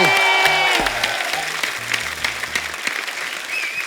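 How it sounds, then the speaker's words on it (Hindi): Studio audience on a Hindi TV comedy show breaks into loud, sustained applause with some cheering, a dense steady patter of clapping filling the room throughout, alongside a tonal sound at the start. "जोरदार ताली हो जाए।"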